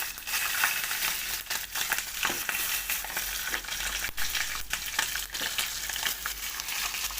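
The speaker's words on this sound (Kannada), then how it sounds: "ಇವಾಗ ಎಣ್ಣೆ, ಸಾಸಿವೆ, ಜೀರಿಗೆ ಚಟಪಟ ಅನಿಸಿದೆ, ಅದರೊಳಗೆ ಹಾಕೋಬೇಕು." Mustard seeds and cumin spluttering in hot oil, a dense continuous crackle and sizzle with scattered sharper pops, close and steady throughout.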